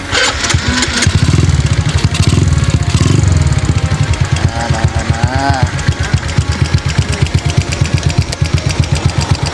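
A Suzuki Smash motorcycle engine starts up and settles into a loud, close, fast-pulsing idle, its rhythmic putter continuing unbroken to the end.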